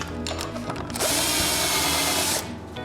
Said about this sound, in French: Après avoir percé 2 trous pilotes, je mets 2 vis